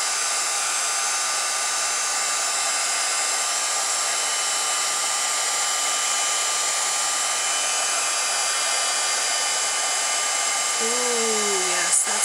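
A heat gun melts embossing powder on a Christmas gift tag. It gives a steady, close blowing hiss for the whole stretch, with a brief tonal sound near the end.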